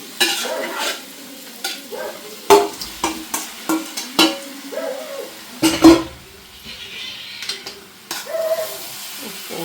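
Chicken coated in Kashmiri chili, turmeric, salt and masala frying in a pan, with a steady sizzle and repeated sharp scrapes and knocks of a spoon stirring against the pan, close and fairly loud.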